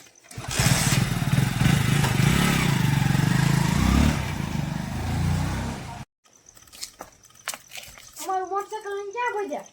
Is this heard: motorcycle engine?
yes